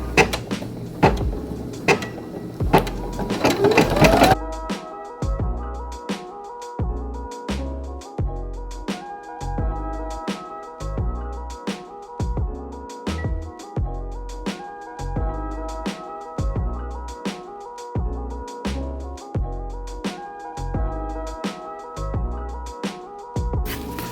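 A Brother PE800 embroidery machine stitching an appliqué placement line, its needle hammering in a steady rapid rhythm after a brief burst of handling noise, loud and close with no voices.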